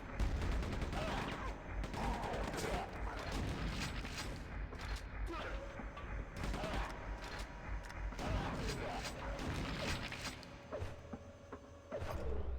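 Super shotgun blasts and close-range gunfire in a multiplayer shooter played on Linux, with bursts of shots and mechanical clacks over a dense mix of game noise, fairly faint.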